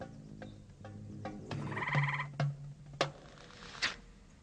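A frog calling in a garden, a series of clicking and croaking pulses with a harsher, buzzy, gobble-like call in the middle, fairly close and alone.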